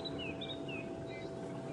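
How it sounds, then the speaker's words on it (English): A white-browed scrub robin sings up a riverbed at sunrise on safari, giving a few short, high whistled notes at a moderate distance over a steady low hum. "It's white-browed scrub robin"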